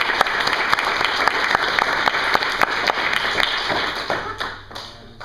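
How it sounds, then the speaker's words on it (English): Audience at a school project presentation claps for a student, a crowd of crisp individual claps merging into steady applause that thins and fades out near the end, with no one talking over it. "Clap for Eli"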